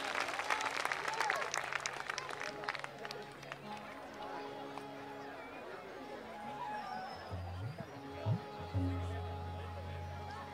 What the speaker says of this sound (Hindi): मेरा जोर से ताली तो बजाइए